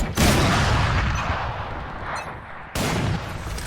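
Gunfire in the video game Valorant punches through a surface in a wall bang, heard as loud, dense, rapid-fire bursts that sustain, briefly cut out, then resume abruptly, close and harsh without any talking.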